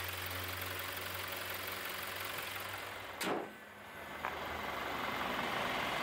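A Toyota Fortuner 2022 with a 2.8-litre four-cylinder turbo diesel idles steadily, a low even rumble close by, with a brief whoosh passing midway and a small click afterward.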